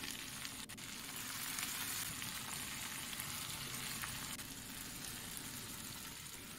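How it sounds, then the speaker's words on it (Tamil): Masala-stuffed eggplant fries with onions, tomatoes and green chillies in a pan, giving a soft, even, continuous sizzle heard faintly and alone. "மூடி வச்சு வதங்க விடலாம்."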